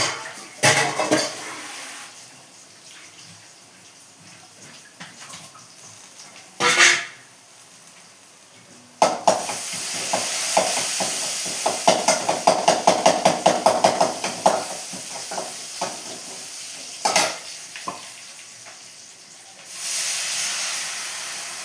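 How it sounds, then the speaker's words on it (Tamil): Garlic tempered in hot oil with mustard seeds sputters in a loud, steady sizzle, punctuated by bursts of crackling pops and a few sharp clinks of a utensil against the pan, with no talking. "இந்த பூண்டை தாளிச்சு விட்டுலாம்"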